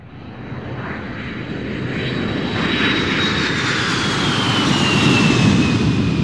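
A steady toy airplane engine sound builds gradually and holds loud and close, with a thin high whine drifting over the rumble.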